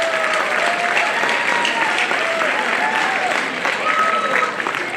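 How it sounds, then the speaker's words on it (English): Sustained applause from a seated audience of students at a college graduation ceremony, dense steady clapping with a few faint whoops and whistles drifting over it. "And one big round of applause to all the students sitting here."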